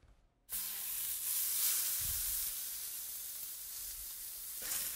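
Venison sausages sizzle in a hot pan, a loud, steady hissing fry that bursts in after a brief quiet moment and holds evenly, with a soft low bump partway through.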